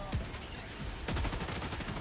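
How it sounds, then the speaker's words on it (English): Mortar and gunfire in the Helldivers 2 video game: a burst of explosive booms near the start and a louder blast around the middle, followed by rapid crackling shots, with faint voices in the mix. "I think the mortar's aiming at me"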